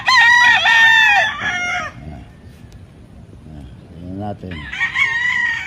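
A rooster crows loudly on a Philippine farm, followed by quieter clucking from chickens and a brief voice speaking, then another crow near the end.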